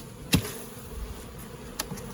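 Honeybees hum at a shaded hive during a fall treatment, a faint steady buzz broken by a couple of short sharp knocks, with no one speaking.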